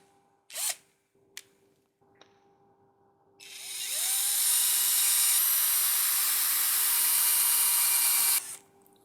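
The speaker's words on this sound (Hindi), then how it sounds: "इसमें होल ड्रिल करते हैं।" A power drill bores holes for a homemade vacuum cleaner build, first with a few short bursts and then one steady, high-pitched whir lasting several seconds before it stops sharply, with no talking.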